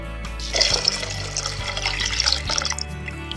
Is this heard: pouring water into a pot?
yes